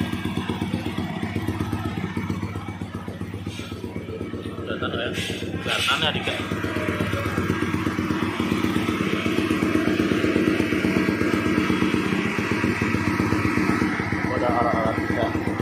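A Yamaha N-MAX 200cc scooter runs on a dyno in a workshop with a cooling fan, its engine holding a steady buzzing drone under people talking nearby.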